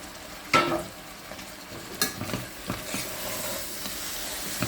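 Half a kilo of mutton frying in a pan for gongura mutton, a steady sizzle with a sharp clatter as the meat goes in and a few scrapes of stirring after, no talking.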